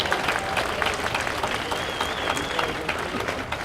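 Dense audience clapping in a hall at a Family Rosary Crusade talk, a continuous even patter of many hands at close range with faint voices mixed underneath.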